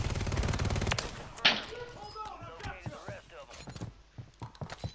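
Video game gunfire opens the clip as a rapid, steady automatic burst that lasts about a second, followed by scattered thumps and clicks while players talk.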